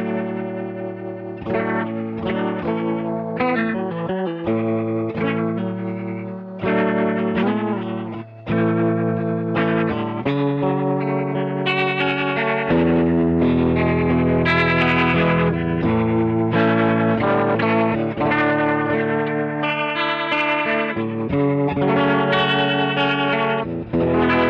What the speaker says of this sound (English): I switched to the dirty channel on the amp, and right now the delay and reverb are going into the front of the amp